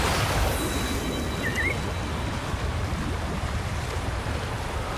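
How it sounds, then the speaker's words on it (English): A big waterfall in the video game Wuthering Waves, heard as a continuous broad roar of rushing water that stays steady and loud throughout, with no voices. "That's a really big waterfall."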